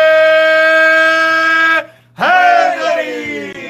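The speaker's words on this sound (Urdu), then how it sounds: "نعرے" A crowd at a majlis chants religious slogans loudly in unison, long sustained shouts that break off briefly before a second swelling call.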